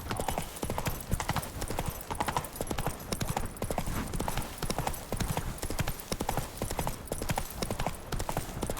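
Horse hooves clip-clopping at a steady trot in The Witcher 3 game, a dense, close, rhythmic clatter running throughout with a faint whinny.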